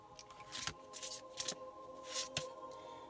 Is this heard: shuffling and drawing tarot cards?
yes